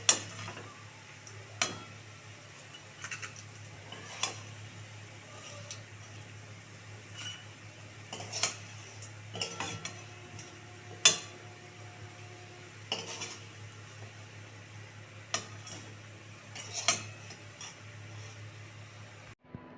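Cabbage pakoras being lifted one by one from a frying pan: sharp metal clinks of a utensil against the pan recur every couple of seconds over a steady low background hum, with faint sizzling underneath.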